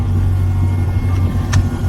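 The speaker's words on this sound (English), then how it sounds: "This is the car at idle." A custom 2019 Range Rover V8 Supercharged with a QuickSilver exhaust idles close by, putting out a steady low rumble that stays even for two seconds with no revving.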